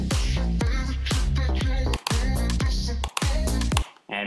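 The drop section of an electronic song plays loud and full, with heavy bass, punchy repeated beats and sharp clap-like hits, briefly cutting out twice before resuming.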